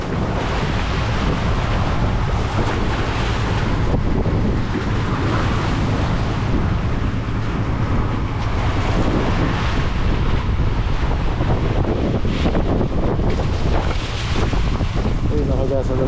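Strong typhoon wind roars into the microphone while big waves crash and surge against a small fishing boat at sea, a loud, continuous wash of noise with a low rumble throughout.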